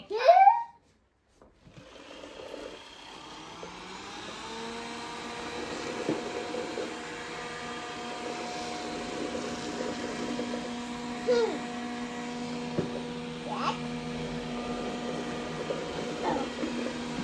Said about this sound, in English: it needs to vacuum.